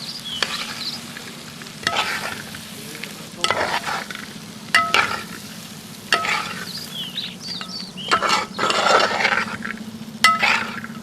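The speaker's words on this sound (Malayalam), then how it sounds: "ഫ്രൈ ചെയ്ത ചിക്കൻ നമ്മളുടെ മസാലയിൽ നന്നായിട്ട് നമ്മൾ മിക്സ് ചെയ്തെടുത്തിട്ടുണ്ട്" A spoon stirs fried chicken through a thick masala in a pan for chicken kondattam, with scraping strokes recurring every second or two over a steady low sizzle and the odd metallic clink; no one speaks.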